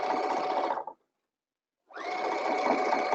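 A sewing machine stitching through layers of tutu netting runs in a fast steady whir, stops for about a second, then starts again, close and loud with no talk.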